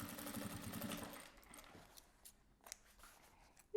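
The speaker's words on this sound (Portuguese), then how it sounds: "Venho aqui, costuro" A sewing machine stitches fabric for a clutch box bag: a quick burst of rapid, rhythmic mechanical chatter for about a second, then near quiet with a few faint clicks.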